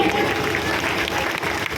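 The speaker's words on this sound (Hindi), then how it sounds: "एक बार जोरदार तालियां हो जाए" Loud, steady applause from an audience at a community Ramlila gathering, a dense wash of clapping that fills the short stretch without pause.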